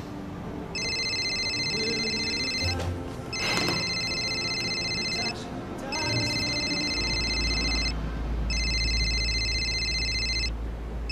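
Telephone ringing with an incoming call in a Korean drama, a loud electronic trilling ring in four long bursts separated by short pauses, close by with a faint low hum underneath and no talking.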